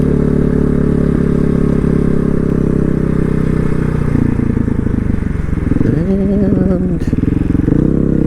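Off-road motorcycle, a KTM 500 or Honda XR650L, loud and close, its engine droning steadily and then shifting pitch as it works through the gears, with someone talking over it.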